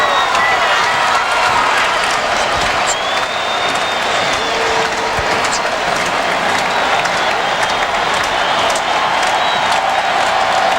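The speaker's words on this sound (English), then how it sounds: "listen to the crowd here in Baton Rouge" A loud, sustained roar and applause from a college football stadium crowd in Baton Rouge during South Carolina versus LSU, dense cheering that fills the whole stretch with no break.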